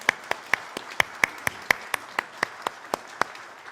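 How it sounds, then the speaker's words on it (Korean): A church congregation at a Sunday combined worship service gives a short round of applause, heard as a steady run of crisp, separate claps from a modest group, close and clear with no talking. "함께 하나님께 영광의 박수 올려드리겠습니다."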